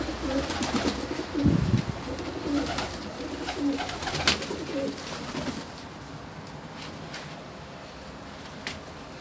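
Pigeons flying from a balcony loft, with soft cooing and fluttering wing sounds over steady outdoor background noise, louder early on and fading to a quieter ambience.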